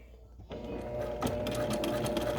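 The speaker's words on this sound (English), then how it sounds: "Sew along it, and you can see it's just creating a little tunnel there." Sewing machine starting up and stitching a narrow tunnel channel along a fabric face mask, a steady mechanical whir with faint clicks, fairly quiet and close.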